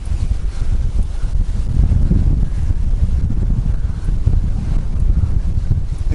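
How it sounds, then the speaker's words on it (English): Strong headwind buffeting the microphone while travelling, a continuous loud low roar with gusty rumbling swells and no pauses, heard alone without talk. "The headwind is a total nightmare."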